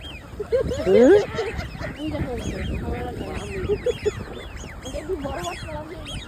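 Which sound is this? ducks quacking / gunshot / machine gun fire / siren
ducks quacking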